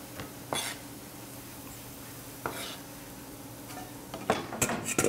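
Peeled, seeded tomato quarters roughly chopped with a knife: a few scattered, sharp strikes on the board with quiet gaps between, then a quicker cluster of cuts near the end, close and fairly soft, no talking.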